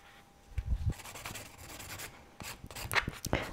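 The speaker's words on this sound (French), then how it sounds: "Et ensuite on va prendre une lime et limer tout ça." Nail file rasping across a fingernail during a nail art session, a few short scraping strokes in quick irregular bursts, close and fairly faint.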